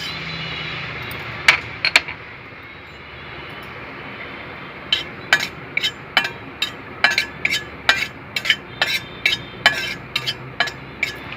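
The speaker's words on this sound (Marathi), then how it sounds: "आता आपण जिरे भाजून घेऊ." Cumin seeds dry-roasting in a hot pan on the stove, with sharp metallic clinks and scrapes of a spoon stirring against the pan, sparse at first and then coming in a steady, close rhythm.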